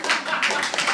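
A small group of audience members clapping hands at a live comedy-music concert, a dense, steady patter of claps close by with no talk over it.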